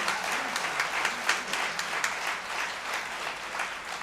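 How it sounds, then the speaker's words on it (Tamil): A hall audience at a Tamil speech event applauding, a fairly faint but steady patter of many hands clapping continuously for a few seconds. "அதுக்கே இன்னொரு கைத்தட்டு கொடுங்க அந்த மனுஷனுக்கு."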